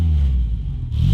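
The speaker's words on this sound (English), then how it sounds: "A quick squirt on the accelerator." A BMW E30 M3 with upgraded cams and exhaust gives a quick blip of the accelerator, a loud, deep, throaty rev that dips briefly then surges again, close by with no talk.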